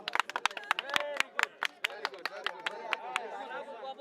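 Applause at a program launch event: a few people clap unevenly at close range in short, scattered bursts that thin out, with voices chattering underneath throughout.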